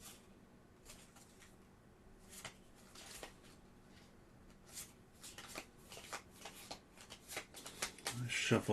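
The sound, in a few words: shuffling cards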